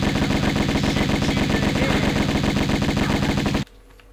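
Rapid automatic gunfire from Tomb Raider 1 Remastered rattles loudly and continuously for over three seconds, aimed at the enemy Larson, then cuts off abruptly into near silence.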